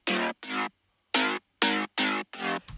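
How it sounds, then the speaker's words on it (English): A synthesized mid bass with no low end plays alone in a run of bright, buzzy, clipped notes, with short gaps and one longer pause between hits. "we have the mid bass, which sounds like this"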